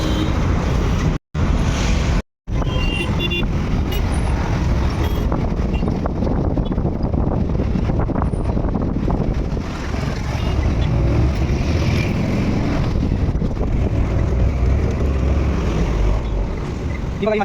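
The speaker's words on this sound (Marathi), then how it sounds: "तो स्पीड ब्रेकर पे टेम्पो उड़ रहा है तो पूरा सामान हिल रहा है." Loaded tempo truck drives over a speed breaker, a loud continuous engine roar and road rumble with rattling cargo, broken by two brief dropouts near the start, heard from inside the vehicle.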